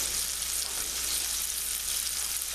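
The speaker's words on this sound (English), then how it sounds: "Meanwhile, we'll be sauteing the onions." Onions sauteing in butter in a pan over a high flame, a steady, even hiss of frying heard close and alone, with a low hum beneath.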